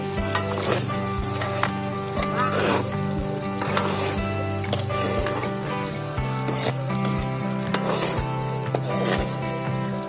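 Egg omelette cooking in a pan, a steady sizzle mixed with frequent metallic scraping and clinking of a spatula against the pan, with a constant low hum behind it, close and moderately loud, no talking.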